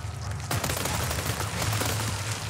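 Rapid bursts of gunfire from the Resident Evil video game, with dense repeated shots beginning about half a second in and continuing steadily, loud and close, over a low rumbling game soundtrack.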